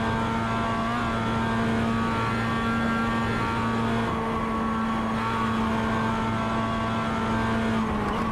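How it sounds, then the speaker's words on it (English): A Mazda MX-5 race car in the iRacing sim on the Nürburgring Combined circuit, its engine held high in the revs as a steady, loud, unbroken drone through the whole stretch, with no talking. "Poor little Mazda, listen to it rev out."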